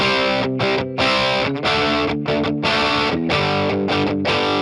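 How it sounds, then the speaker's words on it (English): Electric guitar played through a Line 6 Catalyst 100 amp with its boost engaged, giving a loud, thick distorted tone with sustained chords and brief breaks between phrases, alone without any talking. "Each of the amps has a boost mode, and the boost is unique to that individual amp."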